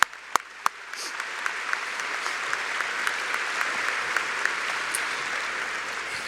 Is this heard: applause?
yes